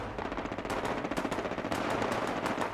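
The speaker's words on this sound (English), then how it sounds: "Gunfire rang out from the White Springs resort" Rapid automatic gunfire rattles in a dense, continuous burst of loud shots, sounding close and steady throughout, with no voices.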